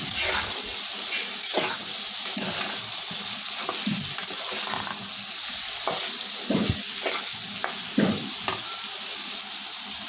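Taro stolons frying in oil in a pan, sizzling steadily with intermittent stirring scrapes and clatters, close and moderately loud, no talking.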